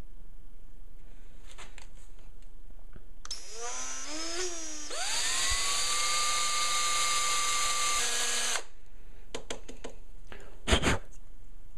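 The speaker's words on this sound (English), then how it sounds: "now I've drilled the hole out there for basically a little tube for the BB to roll in" A small drill boring a hole into a fishing lure whines up in pitch, then holds a steady high buzz for several seconds before stopping; quiet room tone and a few clicks around it.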